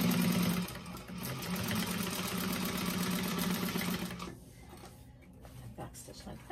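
Sewing machine stitching a tote bag runs in a steady, fast mechanical whir and then slows near the end, heard close under a voice speaking.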